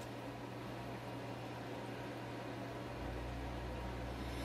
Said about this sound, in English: add the flour and salt to a bowl of a food processor